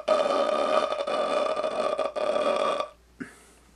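A voice imitates the creepy croaking rattle of the phantom from The Grudge, a loud sustained guttural drone lasting nearly three seconds, followed by a brief short gasp.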